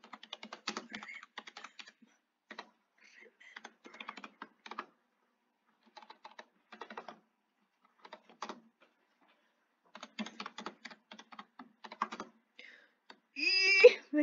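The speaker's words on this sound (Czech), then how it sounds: "Počkej, napíšu." Typing on a computer keyboard comes in quick bursts of close, crisp key clicks separated by short pauses, with a brief voice near the end.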